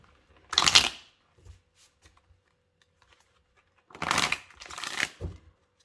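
Tarot cards being shuffled for a reading, two or three short papery bursts of riffling close by, separated by quiet pauses, with no speech.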